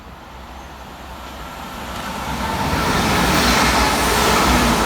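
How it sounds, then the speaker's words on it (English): Transport for Wales unit 197119 races past on the line at Mauldeth Road on a rainy day, a broadband rushing roar that swells steadily from moderate to loud over a few seconds, with no voices. "Next up, passing fast for Transport for Wales is 197119, working 1H87 from Llandudno through to Manchester Airport"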